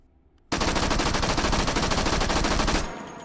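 M1928 Thompson submachine gun fitted with a compensator in the H3VR video game, one sustained loud burst of rapid full-auto fire lasting about two seconds, close and dense, then stopping abruptly and leaving a brief fading tail.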